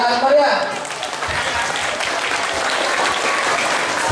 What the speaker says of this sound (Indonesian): Kita kasih aplaus yang sangat meriah.